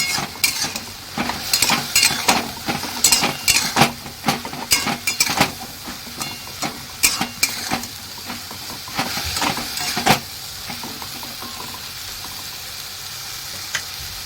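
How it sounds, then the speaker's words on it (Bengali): Spice paste frying in hot oil in a kadai while being stirred, made for a desi Ganges tengra fish curry; a steady close sizzle with repeated scraping and clinking strokes of the spoon against the pan, no talk. "মশলাটা আমি এখন কড়াইয়ের মধ্যে দিয়ে দেবো দেওয়া হয়ে গেছে এখন একটু নাড়িয়ে দেবো"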